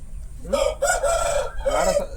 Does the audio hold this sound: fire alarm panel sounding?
no